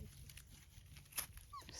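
Tiny whimpers and yips from young puppies, about four and a half weeks old, rise faintly over low background rumble, with one brief sharper cry standing out near the end.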